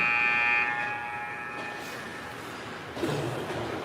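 A sustained electronic buzzer tone sounds over crowd noise at an under-18 ice hockey game in an arena, then fades, leaving a steady murmur with a brief swell near the end.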